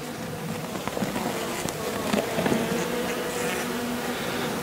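Honey bees in an opened beehive drone steadily and closely throughout a hive inspection, a dense continuous buzz with no talking.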